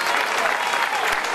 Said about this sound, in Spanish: A ver, el aplauso